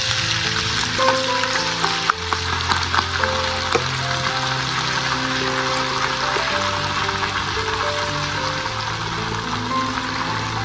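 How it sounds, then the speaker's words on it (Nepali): Small chopped pieces of chicken fry in hot oil in a pan, giving a loud, steady, close sizzle and crackle that runs throughout, with a faint background melody underneath and no speech. "तेल तातिसकेपछि सानो पारेर काटेको चिकनलाई मजाले फ्राई गर्नुहोस्।"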